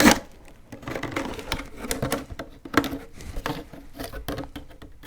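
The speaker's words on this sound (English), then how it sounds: "So I'm going to cut right over here. All right, so I got my kitchen shears." Kitchen shears snip through material for a small DIY air-conditioning unit, giving a string of close, crisp cutting clicks and snips in an uneven rhythm, with no talking.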